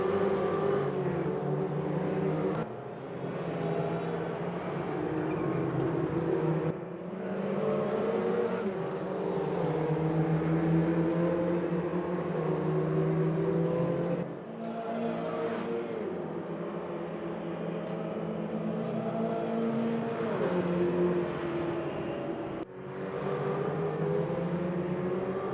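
Porsche Cup 944 race cars in the Raceroom racing game at Pau drone continuously with a steady engine whine, the pitch rising and dipping through gear changes and corners, with brief drops between shifts and no talking.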